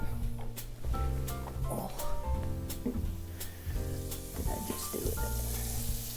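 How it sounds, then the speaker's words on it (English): Butter and seasoned shrimp sizzle in a frying pan, a steady crackling hiss broken by scraping and stirring clatter from a utensil. "Now we're ready to throw a little butter in the pan and get that seasoned up."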